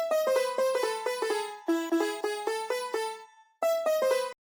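An unprocessed DSK Indian Dreams sitar emulation plays a quick plucked melody of rapidly repeated bright notes with a dry, thin tone, pausing briefly before the phrase resumes.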